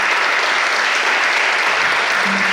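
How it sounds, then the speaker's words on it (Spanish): Steady, close, loud applause from an audience at a university book presentation as a speaker is welcomed to the podium, a continuous dense clapping with no talking. "lo recibimos con un cariñoso aplauso"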